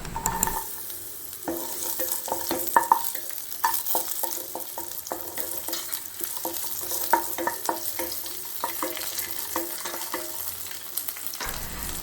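Cashew nuts and raisins fry in hot ghee for a banana milk sweet, giving a steady sizzle broken by frequent clinks and scrapes of stirring, close and fairly loud, with no talking.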